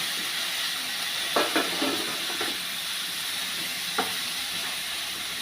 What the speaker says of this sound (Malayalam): എന്നിട്ട് നമുക്കിത് എല്ലാം കൂടെ ഒന്ന് റോസ്റ്റ് ചെയ്തെടുക്കാം.